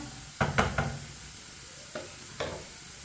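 Onions browning in hot oil for a mash daal tadka, a soft steady sizzle broken by several sharp stirring knocks and scrapes of a spoon against the pan, close and fairly quiet.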